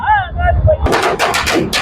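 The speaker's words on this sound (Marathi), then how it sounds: "या ठिकाणी फटाके फोडून" A low rumble with a brief voice at first, then a rapid string of sharp, loud firecracker bangs crackling close by at a political victory celebration in Ardhapur, Nanded.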